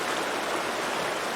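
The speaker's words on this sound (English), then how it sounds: "We're jumping off the waterfall." Steady rushing water of a waterfall in the video game Lost Ember, a continuous broadband roar at moderate level with no speech over it.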